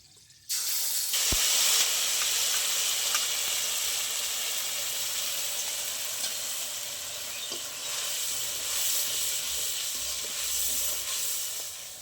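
Ground spice paste dropped into hot oil with whole garam masala, an abrupt loud sizzle that bursts in and then holds as a steady close hiss with faint stirring.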